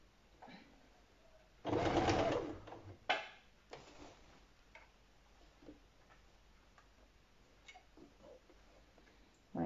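Sewing machine stitching bias binding onto a styled top, one loud run of about a second and a half followed by a brief burst, then quiet handling noise with small clicks.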